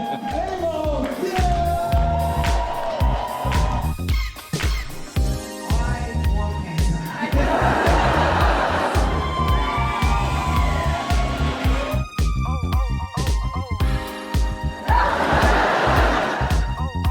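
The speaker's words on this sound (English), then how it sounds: "You can hear it. It's all the women screaming." A comedy show audience of women at a Hungry for Laughs tour night in Kamloops screams and cheers, a loud, continuous crowd roar that swells in waves throughout.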